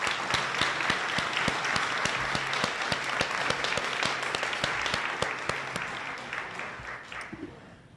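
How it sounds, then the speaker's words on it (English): Sustained audience applause at a graduation commencement ceremony, a dense crowd of clapping hands that holds steady for several seconds before tapering off at the end. "can we just give one more round of applause for David Emmons?"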